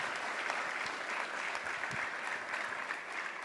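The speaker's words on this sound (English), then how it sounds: "let's give Dr. Khumalo another big round of applause for championing this program" Sustained applause from an audience at a government department meeting, honoring a doctor for championing a program; a steady, fairly quiet wash of clapping with no talk over it.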